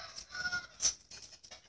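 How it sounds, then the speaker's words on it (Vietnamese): Four caged wild ducks give a short burst of faint, scratchy calls, a few quick squawks at middle distance. "Bốn chú vịt trời đây các bạn"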